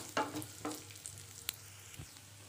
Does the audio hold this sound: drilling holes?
no